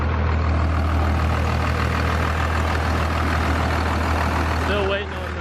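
A Cummins diesel truck engine idles in a steady, deep, close rumble with a constant low hum, continuing without a break until a slight dip and faint clatter at the end.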